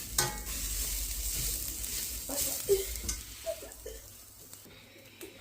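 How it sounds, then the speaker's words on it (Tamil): Freshly grated coconut frying in a pan for a dates sweet, with a steady soft sizzle and scraping stirs, fairly close and even, no one talking. "இப்போ இது நல்லா வறுபடட்டும்."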